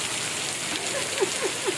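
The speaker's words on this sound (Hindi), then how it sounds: "बारिश हो रहा है" Steady rain falls with a soft, even hiss close by while friends sit together on a rainy day, and a few faint brief chirps or tones rise over it near the end.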